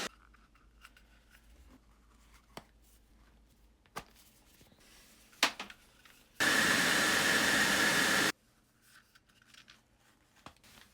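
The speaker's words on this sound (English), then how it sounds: "It was just a few seconds with a warm hairdryer" A warm hair dryer roars loudly for about two seconds, softening part of a doll, bracketed by quiet handling noises, taps and small clicks.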